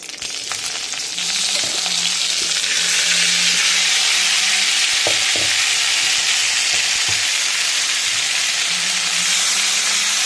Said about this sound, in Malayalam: ചട്ടി അടുപ്പത്ത് വെച്ച് എണ്ണ ഒഴിച്ച് കുറച്ച് കറിവേപ്പില ഇട്ട് കൊടുക്കാം. അതിലേക്ക് ചിക്കനെ ചൂടാക്കാൻ ഇട്ട് കൊടുക്കാൻ പോവുകയാണ്.